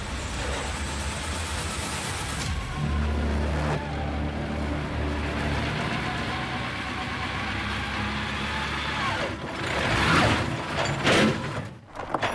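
A prized vehicle is driven up onto a truck trailer in the Australian outback, its engine rumbling and revving steadily close by for the whole stretch, with a few louder surges and knocks near the end.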